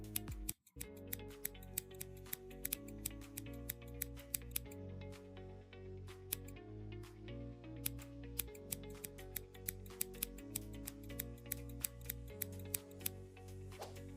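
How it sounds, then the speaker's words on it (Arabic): Small scissors snip out paper letters for homemade Ramadan decorations, a long run of crisp, close, quiet clicks and cuts in an irregular rhythm, with no talk. "بعد كده انا هستخدم مقص صغير علشان اعرف افرغ بيه حرف الميم والضاد"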